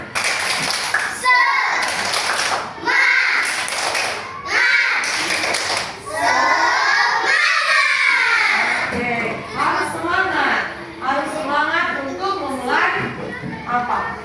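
Children in a classroom do a rhythmic spirit clap, sharp group claps in a patterned beat with their voices chanting loudly between and over the claps, close and lively throughout.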